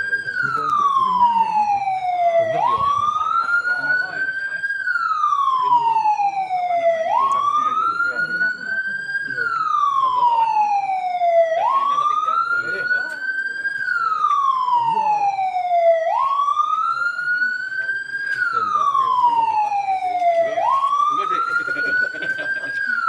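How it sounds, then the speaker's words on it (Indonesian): A loud wailing warning siren rises and falls in repeated cycles, about five long sweeps, sounding before hill blasting at an andesite quarry, with faint voices underneath. "Silakan berikan sirine ketiga, pernyataan ketiga, sirine ketiga"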